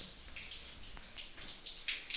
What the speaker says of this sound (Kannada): ಅಲ್ಲಿ ನೀರು ಹರಿತೈತೆ ಮೇಲಿಂದ ಬಿಟ್ಟು ಅದಕ್ಕೆ ನೀರು ಹರಿತೈತೆ